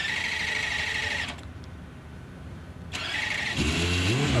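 A hillclimb race car engine at a championship event at Prescott, loud and close, running, fading out briefly, then returning and revving upward with rising pitch near the end.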